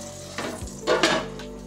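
Flounder fillets laid into a pan of hot butter give a short burst of sizzling frying, with pan and utensil clatter close by.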